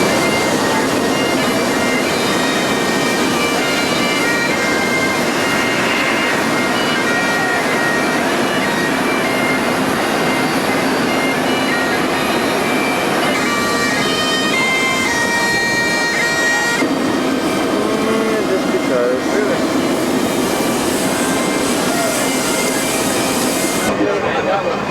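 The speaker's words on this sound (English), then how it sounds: "Here we are on a plane. We're leaving on our way to Nairobi." Steady broadband engine roar inside an airliner cabin in flight, bound for Nairobi, a constant loud drone and hum throughout with voices and cabin chatter faintly underneath.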